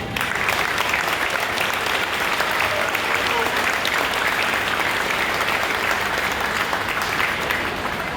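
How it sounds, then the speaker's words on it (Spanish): A crowd at an anniversary event for Patria Querida applauds its volunteers with loud, sustained, even clapping throughout, with no voices rising above it. "les quiero pedir un profundo aplauso"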